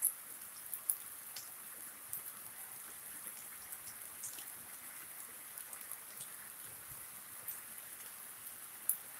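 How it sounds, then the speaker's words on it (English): Steady rain falls outdoors, a constant soft hiss with scattered brighter drops and patters, no voices. "It's just raining here."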